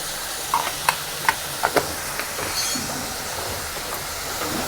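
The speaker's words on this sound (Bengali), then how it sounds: "এবার এটাকে আমি কষিয়ে নেব" Spiced fish masala for doi katla being sautéed in a pan, a soft continuous sizzle with a few sharp scraping clicks of the spatula against the pan early on, close and steady.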